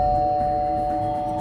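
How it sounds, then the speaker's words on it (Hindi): A doorbell in a horror animation rings with a sustained, steady electronic tone that holds evenly over a soft low hum. "तभी उसके घर की घंटी बजी।"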